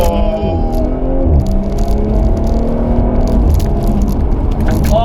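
A 2018 Audi S5 Sportback engine in dynamic mode, a loud steady drone with rising and shifting pitch as it pulls, heard alone without talk.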